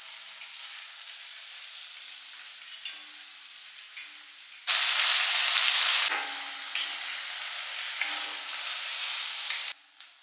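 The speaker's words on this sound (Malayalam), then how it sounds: "നമുക്ക് ഉള്ളിയും പച്ചമുളക് കൂടി അത് വഴറ്റിയെടുക്കണം." Onions and green chillies sauté in hot coconut oil in a pan, a steady sizzle with stirring scrapes that turns suddenly louder midway and holds until near the end.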